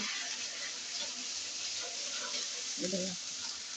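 Ground cumin, turmeric and ground chili paste fry in oil for a beef curry, making a soft, steady sizzle with faint stirring, plus a brief voice-like sound near the end.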